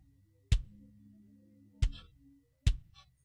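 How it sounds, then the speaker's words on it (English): A soloed kick drum track from a home recording gives three isolated, deep, punchy thumps with short ringing tails and silence between them. "So if we just solo this kick track and listen to it, it sounds like this."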